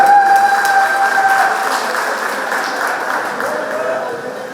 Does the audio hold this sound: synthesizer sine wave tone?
no